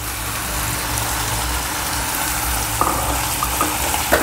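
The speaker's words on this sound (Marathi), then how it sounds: "आपण एक हलका पाण्याचा शिपका त्याच्यावर मारूया।" A cauliflower and potato stir-fry sizzles steadily in the pan after a light sprinkle of water, giving a loud, constant hissing crackle up close with a few small pops near the end.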